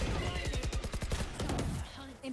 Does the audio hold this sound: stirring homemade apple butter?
no